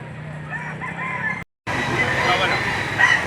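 Rooster crows at a livestock auction market in Lipa, Batangas, a strained call broken by a short gap, with auction chatter and crowd noise around it.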